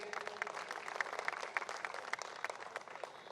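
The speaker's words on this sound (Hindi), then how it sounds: "जोरदार तालियां प्लीज" Audience at a fashion week grand finale applauding, a fairly faint, distant patter of many hands with a few sharper claps standing out.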